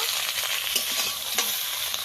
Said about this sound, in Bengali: এই তেলেতেই শিমটা ভেজে নেব।